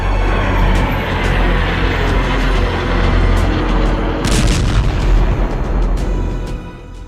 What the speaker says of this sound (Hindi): अमेरिकी सेना ने ईरान समर्थित कताइब हिजबुल्लाह पर भीषण हवाई हमले किए थे।